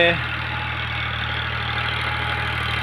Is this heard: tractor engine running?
yes